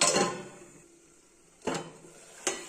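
A few metallic clanks of cookware as a lid is placed on a cooking pot, a clatter at the start then two sharp knocks, one near the end, in a quiet kitchen.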